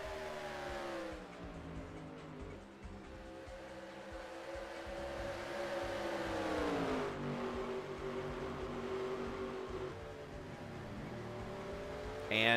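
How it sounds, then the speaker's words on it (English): Engine drone from a race car in a racing video game at Kentucky Speedway, its pitch sliding downward as it slows, rising and falling again before dropping off. Faint commentary runs underneath. "I heard a car slowing down."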